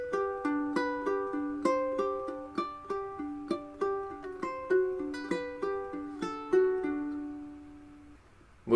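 A ukulele is played fingerstyle through a phrase of Ode to Joy, a steady sequence of bright plucked notes ringing out alone with no talk, ending on a fading final note.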